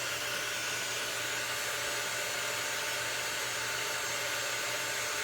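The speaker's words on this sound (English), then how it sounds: "So I'm just gonna hit this with the dryer real quick." Steady roar of a hair dryer drying a craft project up close, an unbroken airy rush over a faint motor hum, lasting several seconds without speech.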